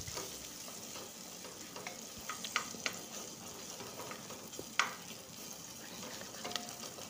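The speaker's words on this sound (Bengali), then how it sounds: "পেঁয়াজ আর আদা ভাজি করিয়া" Onion and ginger frying in a pan for khichuri, a steady soft sizzle with occasional small stirring clicks and pops, close and fairly quiet, with no talking.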